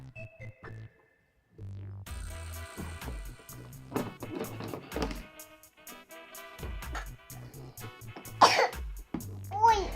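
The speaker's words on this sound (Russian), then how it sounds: "Я Закашлялась, не надо кашлять." A young girl coughs repeatedly at close range during indoor play with Barbie toys, several sharp bursts scattered among children's chatter and soft background music.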